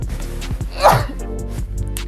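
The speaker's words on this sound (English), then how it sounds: "Ooh, sneeze." A single sharp sneeze bursts out close to the mic during an acrylic nail application with a brush, standing out briefly against a low background.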